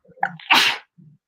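A single close, sharp human sneeze bursts out after a short intake of breath, followed by a faint murmur.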